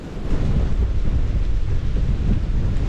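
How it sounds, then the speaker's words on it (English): Strong wind on a mountain roars and buffets the microphone steadily for the whole stretch, a dense low rumble with no voices. "It's windy."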